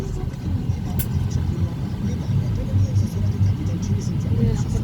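Low, steady engine rumble and road noise from inside a moving car traveling in a three-vehicle convoy, continuous and fairly loud throughout with a brief faint click early on.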